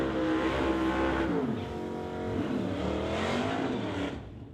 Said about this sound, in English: Burnouts complete for Zach Liston and Craig Johnson.